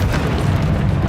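A Confringo fire spell explodes in Hogwarts Legacy: a loud, sustained, deep booming rumble that rolls on without a break for about a second.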